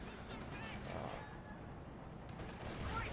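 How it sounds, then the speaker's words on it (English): Tank battle in the strategy game Company of Heroes 2, a Sherman trading cannon fire with a Tiger as a Jackson shoots from range, heard as a low rumbling din of distant gunfire and engine noise with faint bursts throughout. "Jackson firing from range at the front"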